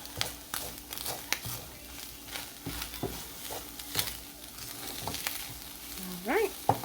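Ground turkey with taco seasoning sizzles in a pan and gets a quick stir, with soft hissing, scattered scraping taps and a brief squeak near the end, all fairly quiet and close.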